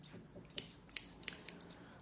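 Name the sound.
scissors trimming hair on a dog's ears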